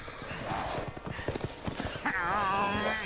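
Pony hooves clip-clop in a quick, steady rhythm in a modded Resident Evil Village, loud and close, joined by a horse whinny near the end with voices talking over it.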